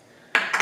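A spoon scoops through boozy keto chocolate ice cream, two quick scraping strokes close up in a brief quiet moment.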